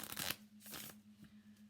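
A deck of oracle cards being shuffled by hand, a quick close riffle of papery rustles followed by softer sliding shuffles, quiet and brief with no talking.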